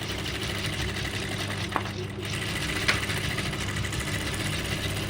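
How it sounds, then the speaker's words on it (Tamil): Sewing machine stitching a straight seam in a tailoring class, a continuous close motor hum with faint ticks, running steadily throughout with no pauses. "இப்போ வந்து ஸ்ட்ரைட் தையல் பழகிக்கலாம்"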